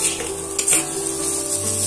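Vegetables with a pinch of turmeric powder frying in a pan, a steady soft sizzle running throughout with brief hissy bursts near the middle, close and moderately loud with no talk.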